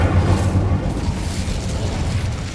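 Incendio fire spell cast in Hogwarts Legacy, a loud, close, low rumbling whoosh of flame with a booming onset that rolls on steadily for a couple of seconds.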